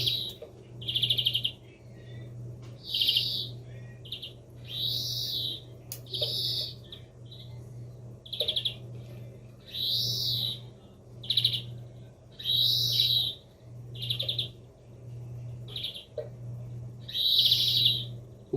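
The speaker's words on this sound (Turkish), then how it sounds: "Bunun öteceği bu kadardır." A songbird with a faulty, off-track song sings repeated short phrases with brief pauses between them, clear and fairly close, over a low steady hum.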